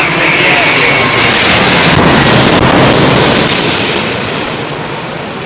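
A big Lancaster bomber flies over near an airport, its engines making a broad, steady roar that swells and then fades slightly toward the end, with wind buffeting the microphone.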